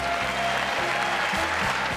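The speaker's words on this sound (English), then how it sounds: "with lots of applause" Dense, sustained applause from a large audience at President Biden's State of the Union address, a steady roar of clapping throughout two seconds.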